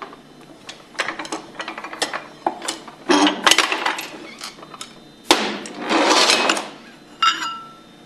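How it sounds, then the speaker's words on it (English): Shaft and rotor assembly being pressed out of a Hypro 7560 series roller pump, giving a run of close metallic knocks and clanks, short taps followed by heavier bursts of scraping impacts, with no talk. "we can use that to remove the shaft and rotor assembly"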